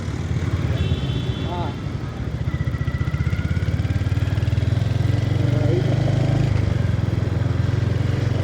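A Royal Enfield Hunter 350, a 350cc single-cylinder motorcycle, thumps along on a test ride with a steady, close, rhythmic engine pulse. Talk runs over it and the engine note firms up as the ride continues.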